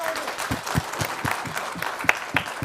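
Studio audience applauding on a Kannada television news debate show, a dense clatter of many hands with steady rhythmic pulses, fairly close and continuous throughout.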